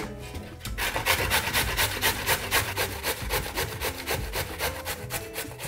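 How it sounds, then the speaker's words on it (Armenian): Raw pumpkin being grated on the large holes of a grater, a rapid rhythmic series of rasping strokes, about three per second, close and steady for several seconds with no talking. "Քերում ենք մեծ անցքերով։"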